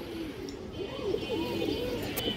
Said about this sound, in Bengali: রিং চোখের কবুতর